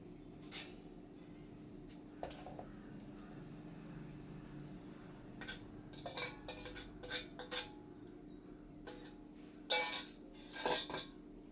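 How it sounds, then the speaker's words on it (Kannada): Cut mango pieces moved from a bowl into a mixer jar, with scattered clinks and scrapes of a spoon against the dishes in short bursts over a steady low hum. "ಒಂದು ಮಿಕ್ಸಿ ಜಾರ್ಗೆ ಟ್ರಾನ್ಸ್ಫರ್ ಮಾಡ್ಕೊಳ್ಳೋಣ ಬನ್ನಿ."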